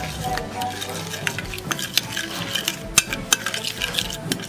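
Seasoned Christmas roast meat with garlic and a splash of oil is turned over in a pan, with close metallic scrapes, clinks and utensil knocks arriving in irregular bursts over a low kitchen background.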